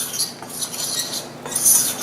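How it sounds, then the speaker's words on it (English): Baking soda being stirred into dry ingredients for plant-based sweet potato muffins: a utensil scraping and clinking in a bowl, close and steady for about two seconds, no talking. "And I'm going to mix all that together."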